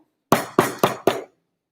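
A frozen banana, chilled hard in a cold bath at a science show, strikes a surface like a hammer four times in quick succession, each a sharp, close, loud knock with a brief ringing decay.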